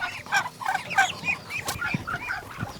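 Ducks kept for eggs and meat on a small farm give a run of close, busy, clucking calls in quick succession, with no talking.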